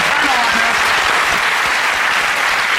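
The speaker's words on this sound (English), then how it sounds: "Round of applause for Anna." A studio audience on a BBC panel game show breaks into loud, dense applause that fills the whole moment with steady clapping and no voices.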